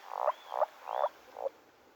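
Four short, evenly spaced croaks from toads calling at a Greek lake in spring, each a buzzy rasping burst ending in a brighter click, close and clear over quiet background hiss.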